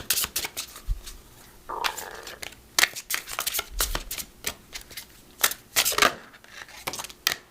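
Metatron Oracle cards being shuffled and handled, giving a series of close, crisp riffling and flicking bursts with scattered soft taps, quiet in between and no talking.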